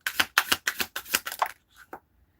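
A deck of playing cards is shuffled in a rapid run of about six crisp riffling bursts, close up, followed by two softer taps as the cards settle. No one talks.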